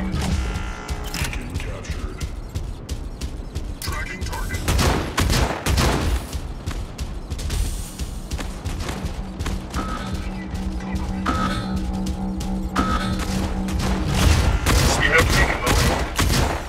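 Rapid bursts of mech weapon fire crackle and boom through a battle in the mobile game Mech Arena, with repeated volleys, impacts and explosions layered over game music, loud and dense throughout.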